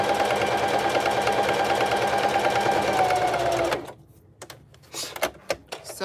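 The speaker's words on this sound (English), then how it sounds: "So I'm just sewing down one end on one side a little bit" A gray Singer Heavy Duty sewing machine stitches fabric at a fast, steady whir for several seconds, then stops, leaving scattered faint clicks and handling noises nearby.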